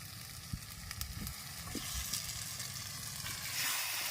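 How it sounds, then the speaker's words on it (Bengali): Cut potato pieces fry in hot oil with ginger-garlic paste for a catfish curry, giving a steady close sizzle with a few soft clinks of stirring and no talk. "আলুটা একটু ভেজে নিয়েছি"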